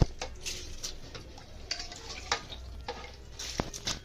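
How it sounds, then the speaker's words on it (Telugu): Soaked basmati rice goes into a pot for chicken mandi and is stirred, giving repeated scraping and clinking strokes against the metal over a soft, steady sizzle, close and moderately loud, with no talking. "ఇప్పుడు బియ్యం కూడా వేసేస్తున్నాను"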